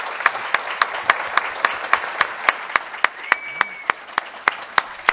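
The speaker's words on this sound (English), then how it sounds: "please join me in thanking our panel with a round of applause" A conference audience applauds a panel at an open government data event, with steady, moderately distant clapping from many hands and a few sharper individual claps standing out over the wash.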